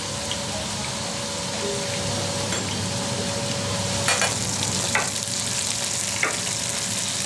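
Garlic frying on its own in a pan, a steady close sizzle with a few brief clicks and pops near the end, no voices.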